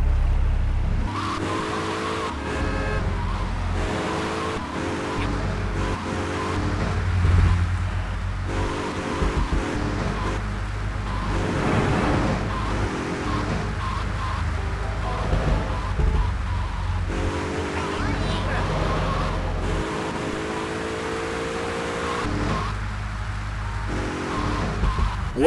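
A car driving in GTA 3 during a chauffeur mission: a steady engine drone runs throughout with shifting revs and occasional tire squeals, and no voices.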